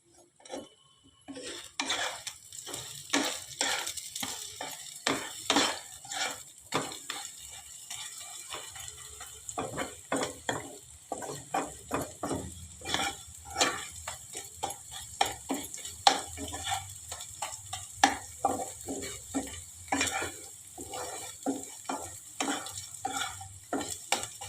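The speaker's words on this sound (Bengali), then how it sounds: "ডিমটাকে গুঁড়ো গুঁড়ো করে নেব।" Egg crumbles and fries in a pan for egg tadka, with repeated scraping strokes of a spatula against the pan over a soft sizzle, irregular and close, with no voices.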